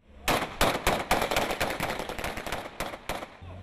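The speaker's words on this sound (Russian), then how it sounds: "А это уже стрельба холостыми" A rapid volley of sharp blank-cartridge gunshots from a Russian National Guard unit demonstration cracks out, several bursts in quick succession then thinning into scattered shots, loud and echoing.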